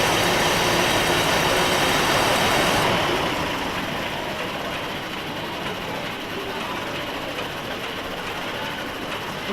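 A 1914 Rolls-Royce Alpine Eagle engine runs with a loud, dense, continuous roar that stays steady and unbroken from start to finish.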